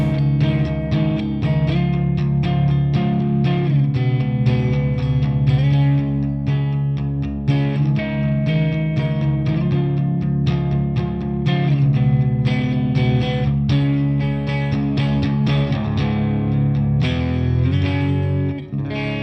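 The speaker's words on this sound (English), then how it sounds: "give our green channel a little bit more gain, and we're going to actually leave all the bass in to let the guitar sound a little more natural" Electric guitar riff played through a Flex15 amp on its green channel with added gain and full bass, a steady, loud, slightly overdriven chordal pattern with repeated strums and no talking.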